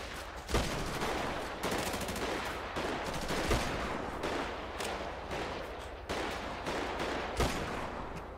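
Rapid gunfire from a GTA roleplay video game shootout, with bursts of automatic shots and louder single cracks repeating steadily at close range throughout, no talking.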